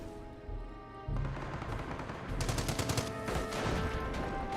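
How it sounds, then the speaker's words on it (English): Rapid bursts of .30 cal machine gun fire in the Company of Heroes battle game ring out over a low rumble of battle. They grow denser and louder in the second half, with no talk. "Here, the 30 cal placement"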